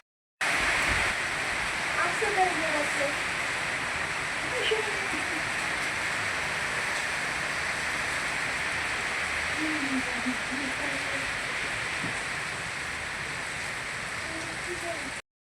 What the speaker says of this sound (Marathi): पाऊस लगेच चालू झाला आहे